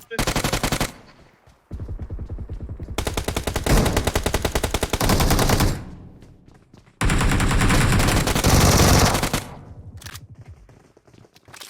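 Bursts of automatic gunfire from PUBG Mobile, several long, loud, rapid volleys separated by short pauses, close and dominant, with an occasional voice underneath.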